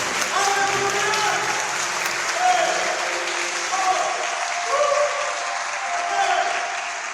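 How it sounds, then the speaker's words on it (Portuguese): Church congregation applauding steadily and loudly throughout a service, with a voice speaking over the dense clapping. "Se é verdade, aplauda, aplauda."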